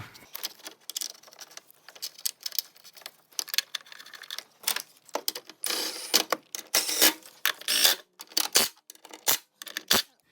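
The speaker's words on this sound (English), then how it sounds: "This is a really weak 3/8 drive Milwaukee, so don't worry about over tightening it with that, at least if you just give it small little bursts" A Milwaukee 3/8-inch drive cordless ratchet running bolts back into an air filter bracket on a 2002 Volvo XC70, with repeated short whirring bursts and clicks close by, separated by brief pauses and no speech.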